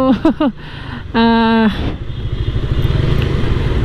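A motorcycle sits with its engine idling, a steady low rumble running close through the clip, with a brief horn-like tonal blare near the start and a few short bursts before it.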